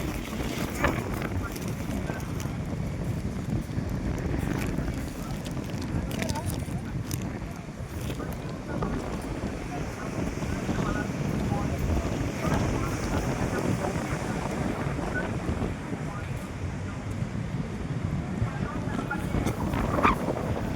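Strong wind blows by the sea, buffeting the microphone in a constant rough rumble with waves washing underneath, while a person talks over it throughout.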